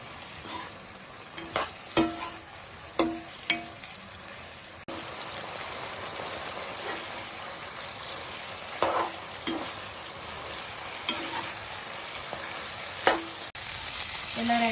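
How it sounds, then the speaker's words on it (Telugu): Chicken is stir-fried on high flame in a gravy for dragon chicken, with a continuous crackling sizzle broken by repeated sharp spatula clanks against the pan. "చికెన్ వేసుకుని ఇలా కలుపుకొని హై ఫ్లేమ్లో వేపుకోవాలి"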